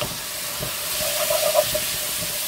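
Onions frying in a pan for a pork blanquette, giving a steady soft sizzle and hiss with a few faint stirring scrapes, close and without talk.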